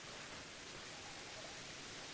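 Rain in the video game Pokémon Legends: Arceus, a faint, steady hiss of falling rain that holds evenly without voices or other noticeable sounds.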